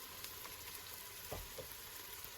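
Onions fry in hot oil in a pan over medium heat while a fish, crab and vegetable soup is being made. A faint, steady sizzling hiss continues throughout, with a few soft pops and crackles.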